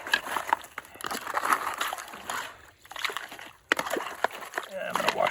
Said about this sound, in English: I use a scoop, and then what I do is I scoop the water in here